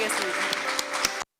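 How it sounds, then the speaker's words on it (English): A forum audience in Jeonju applauds the city's mayor at a slowness awards event, a brief burst of clapping with voices mixed in that stops abruptly. "Please welcome him with a round of applause."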